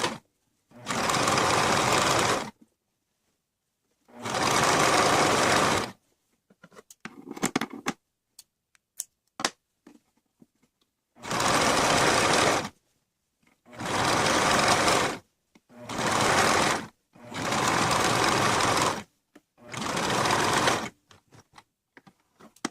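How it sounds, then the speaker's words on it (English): A sewing machine runs a zigzag stitch halfway off the edge of t-shirt ribbing, in seven loud bursts of steady whirring separated by short pauses with faint handling clicks. "I'm going to go ahead and finish it with a zigzag stitch that goes halfway off the edge"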